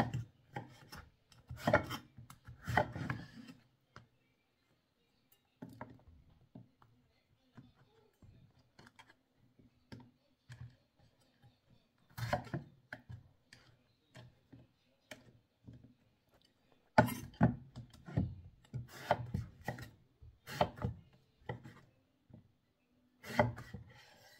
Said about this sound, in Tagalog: Ang magandang hiwa ko dito mga lalabs is manipis lang po.